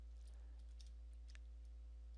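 A command being typed on a computer keyboard, a few faint scattered key clicks over a low steady hum, quiet and with no speech.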